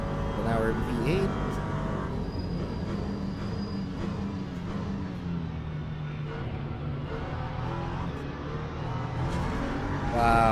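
A V8 engine of an LMP3 race car in a racing game droning steadily and rising near the end, a continuous low rumble with someone talking over it.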